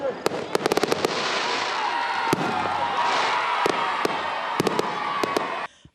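New Year fireworks over Odienne at midnight, 2021 into 2022: rapid sharp bangs and crackles, some in quick clusters, over a continuous roar of crowd noise and voices.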